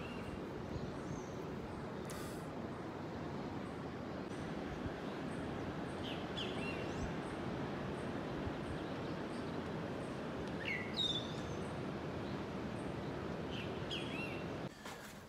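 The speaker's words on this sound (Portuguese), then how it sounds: "acordar aqui com o canto dos pássaros é surreal" Scattered bird chirps and calls at a resort in Costa do Sauípe in the morning, faint and intermittent over a steady bed of outdoor ambience.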